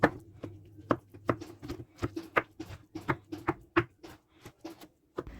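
A knife cuts through oven-baked eggplant on a board, giving a steady run of soft, close chopping taps with short pauses between strokes and no talking.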